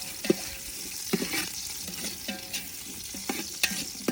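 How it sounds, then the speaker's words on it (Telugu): Green chillies and onions stir-frying in a pan, a steady broadband sizzle with repeated scraping stirs and occasional clinks of a utensil against the pan, close and moderately loud with no voices. "వీటన్నిటిని పచ్చివాసన పోయేంత వరకు దోరగా వేయించుకోవాలి"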